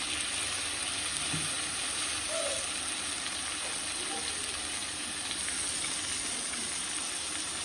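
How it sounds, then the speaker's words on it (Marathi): Onions and soaked chana dal sautéing in a pan for a dry Maharashtrian dal dish, a continuous close sizzle and fry hiss with occasional stirring scrapes, steady throughout. "आता पुन्हा एकदा छान असं परतून घ्यायचं."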